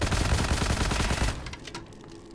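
Rapid automatic fire from the nail-gun-style weapon in WRATH: Aeon of Ruin, a dense, loud burst for over a second that then cuts off into quieter scattered sounds.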